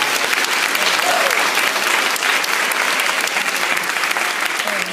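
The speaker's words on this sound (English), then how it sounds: "So if you want to give them another round of applause for them." Sustained applause from an audience at a Junior Scholars Program event at the Schomburg Center, dense steady clapping lasting throughout, fairly loud and close.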